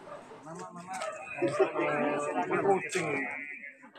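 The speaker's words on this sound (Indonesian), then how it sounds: "Suara gonggongan anjing-anjing ini masih terdengar gaduh di halaman belakang rumah" Ten pet dogs barking noisily in the backyard of a house, a jumble of yips and barks mixed with whimpering, heard together with talking throughout.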